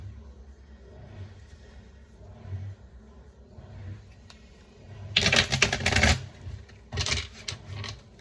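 Two bursts of tarot cards being riffled and shuffled, crisp and close, after a quiet stretch of low background hum.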